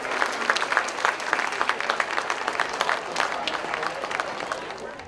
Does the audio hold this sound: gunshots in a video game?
no